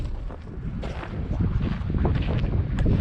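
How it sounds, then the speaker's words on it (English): Steady outdoor wind on a farm near a greenhouse, a light breeze of about seven or eight miles an hour buffeting the microphone with broadband rumble, continuous and moderately loud with faint rustling. "It is windy."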